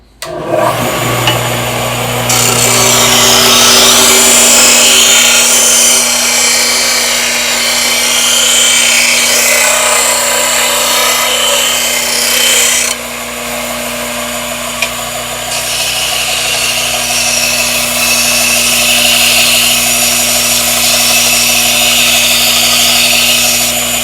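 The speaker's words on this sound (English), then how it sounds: "you can use the belt sander for the same purpose" Belt sander rounding over the edge of a wooden workpiece in a woodshop, a loud steady whine and abrasive hiss running continuously throughout, with a brief shift in pitch partway through as pressure changes.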